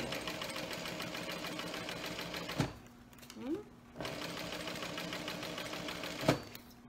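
A sewing machine runs steadily while stitching vinyl all the way around a seam, its rapid mechanical chatter stopping briefly in the middle with a faint rustle before resuming at the same even pace.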